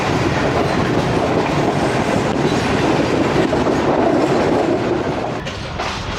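The Tezgam passenger train rolls along the rails near Kaluwal railway station with a steady, loud rumble and rhythmic clickety-clack of wheels, heard from on board with no talking.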